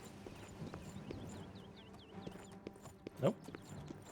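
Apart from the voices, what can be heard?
horse hooves clip-clopping in the video game Oblivion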